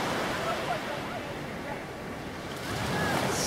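Sea surf rolls onto the beach at Scheveningen as a steady, fairly loud wash of broadband noise with wind across the microphone, and no clear break stands out.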